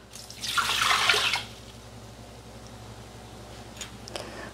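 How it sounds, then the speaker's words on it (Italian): Water poured into a Thermomix bowl for wholemeal pizza dough, a loud splashing pour lasting about a second, then quiet background with a couple of faint clinks. "Iniziamo la ricetta mettendo all'interno del boccale l'acqua."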